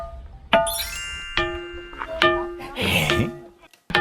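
A hand-held stone taps boulders at Maneosa temple, and each strike rings out with a clear bell-like ding and a sustained ringing tone, several hits in a row with people's voices reacting between them.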